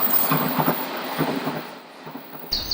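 A train in Tokyo pulls away from a platform, rumbling and rattling along the rails, a steady rolling clatter with a brief hiss near the end, fairly close and without voices.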